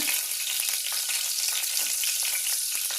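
Beef stew ingredients fry in a pressure cooker as they are stirred, making a loud, continuous close sizzle with faint scraping beneath it and no speech.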